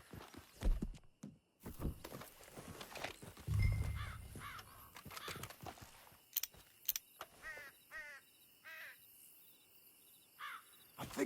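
Horse hooves clop at a walking pace in Red Dead Redemption 2, a few scattered soft steps over quiet outdoor ambience with insects and occasional bird calls.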